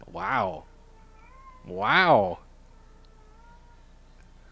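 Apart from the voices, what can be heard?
pet cat meowing variations of her call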